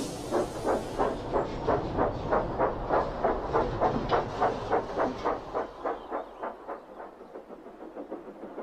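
Toby, a small steam tram, approaches on rails with a steady rhythmic chuffing that keeps an even beat, then fades and grows quieter toward the end.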